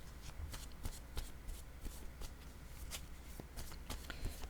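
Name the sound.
tarot cards being shuffled and drawn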